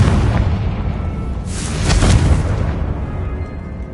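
A deep boom and crackling burst from a Confringo blasting spell in a Hogwarts video game, swelling to a peak mid-clip then fading into rumble, with no voices.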